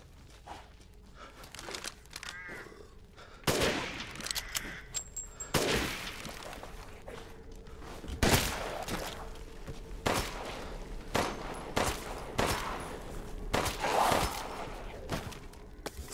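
Gunfire from a gun used for fishing in the video game Resident Evil Village, sounding as several sharp, loud shots spread across the clip, with crunching and rustling noises between them and no talk.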